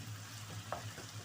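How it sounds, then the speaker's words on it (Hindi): Minced meat (keema) cooking in a pan with yogurt gravy as a small splash of water goes in, giving a steady low sizzle with one brief louder hiss, close and alone. "मैं थोड़ा हल्का सा पानी देने लगी हूँ,"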